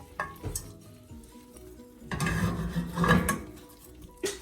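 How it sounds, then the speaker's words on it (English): Fried banana malpua, lifted straight from hot oil, goes into sugar syrup with a few spoon clinks and taps, then a louder wet sizzling, stirring stretch and a final clink, close and quiet. "I took it right off the oil, and I'm gonna put it in our sugar syrup"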